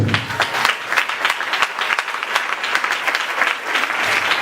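A church congregation at a Sunday service breaks into loud, sustained applause, dense clapping from many hands filling the room without a break.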